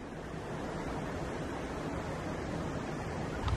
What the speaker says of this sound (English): there's like a creek back here.